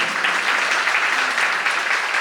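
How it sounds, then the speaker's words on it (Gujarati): A seminar audience bursts into loud, dense applause, with many hands clapping at once in a steady, continuous wash. "જોરદાર તાળીઓ"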